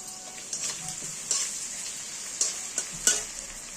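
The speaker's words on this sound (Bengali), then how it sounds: "এখানে আদাগুলো আমরা দিয়ে দেবো এই তেলের মধ্যে।" Grated ginger fries in hot oil while cooking Bengali basanti pulao, a steady close sizzle with a handful of sharp stirring clicks and scrapes, no talking.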